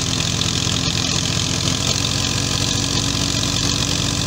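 Tractor engine labouring hard during wheat threshing with a choked radiator, a loud, constant low rumble that runs unbroken and close by with no speech.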